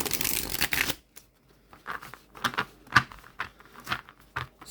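Glossy tarot cards shuffled overhand at close range, starting with a dense rustle, then a string of soft, irregular slaps and riffles.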